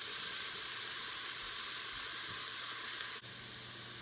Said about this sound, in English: We're gonna stir fry that broccoli.